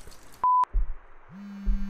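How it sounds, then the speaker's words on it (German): A mobile phone in a video game sounds a short electronic tone, a single clean beep, followed by a low steady synthetic hum and soft thuds, quiet and with no voices. "Oh, das Handy klingelt."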